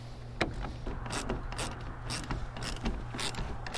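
Hand ratchet clicking in quick irregular bursts while tightening a clamp on a MaxMate soft roll-up tonneau cover on a Ford F-150 Supercab 6.5 ft truck bed, close and moderately loud with a low hum beneath.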